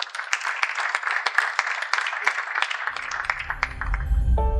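Indoor audience applause at a festive athletics networking meeting, a dense run of claps that thins out toward the end as a low rumble comes in, close and alone without talk.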